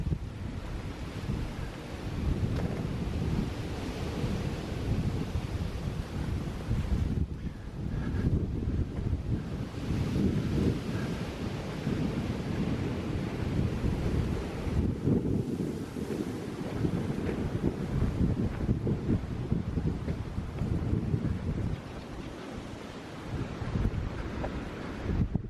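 Bitter winter wind buffets the microphone outdoors at Avebury, a loud continuous roar of gusts that briefly drops twice before surging back, with no voices.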